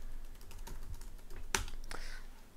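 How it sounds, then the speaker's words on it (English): A password typed on a computer keyboard: a quick run of close key clicks with one sharper louder tap partway through, fairly quiet overall. "so we'll type our password in"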